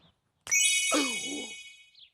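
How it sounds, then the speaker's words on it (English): A bright electronic doorbell chime rings once, its sustained tones ringing out and fading, with a muffled voice briefly underneath. "why don't you ring the doorbell?"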